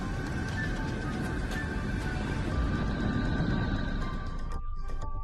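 A sonification of the planet Neptune: a dense, hissing electronic rumble with faint sustained tones runs steadily, then thins abruptly near the end; no voices.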